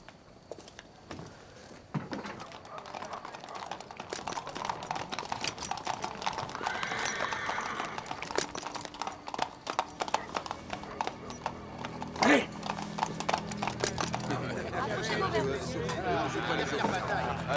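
Horses clip-clop and whinny at a relay station on a street, with hooves trotting and a neigh amid a crowd's chatter and voices, while people speak throughout.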